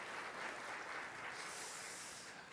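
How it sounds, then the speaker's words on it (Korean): A church congregation claps to welcome a newcomer to their service, a soft, steady wash of many hands heard from a distance, with no voices over it. "우리 박수로 환영하겠습니다."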